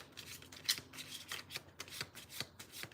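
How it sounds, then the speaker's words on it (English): Halloween tarot cards shuffled and drawn by hand, a steady run of papery riffles and soft slaps, close and clear, with no talking. "Let's draw you a couple cards here."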